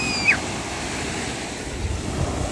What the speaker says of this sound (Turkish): Rüya, şu dalgaya bak, kocaman geliyor.